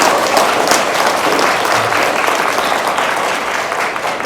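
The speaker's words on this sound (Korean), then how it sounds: "큰 박수 보내주세요" A seminar audience gives a lecturing professor sustained applause, with dense, even clapping from a sizable crowd filling the room throughout at a steady, loud level.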